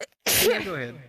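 One sharp, loud sneeze bursts out close to the microphone after a brief silence, and a few words of speech come just before it.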